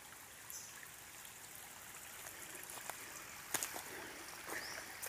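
Water from heavy rain trickling and flowing into a small rural pond that is usually dry, a steady faint outdoor wash with a few brief splashes or drips near the middle.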